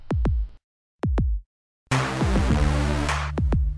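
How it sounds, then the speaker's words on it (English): A heart beats in deep, booming double thuds, two pairs separated by silence, then more paired beats over a sustained tonal backing. "I wake up to the sound of my heart beating"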